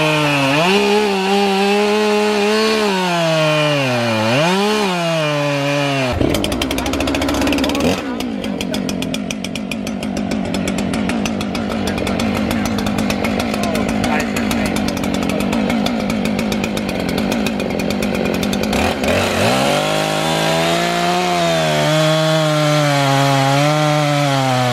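A Husqvarna chainsaw runs at a booth at the Oregon Logging Conference, revving with rising and falling pitch, then cutting wood in a long, steady, loud bite before revving again. Voices can be heard around it.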